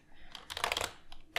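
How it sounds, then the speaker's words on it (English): Keystrokes on a computer keyboard come in a quick burst of clicks and taps, clustered then pausing, with a final sharp pair, close and fairly loud with no talking. "I should not speak while typing."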